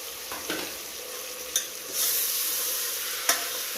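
Curry leaves, coriander and tomatoes are sautéed together in a pan. A steady sizzle swells louder partway through, and a few sharp scrapes and clicks of the stirring spoon stand out close by.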